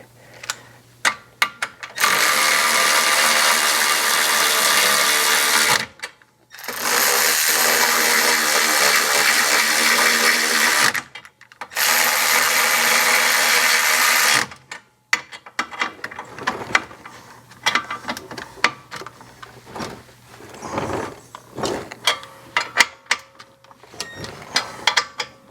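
A power tool, likely an impact wrench, tightens the axle nut on a VW Jetta, firing three long, loud continuous bursts up close, each a few seconds long, followed by scattered clanks and handling noises.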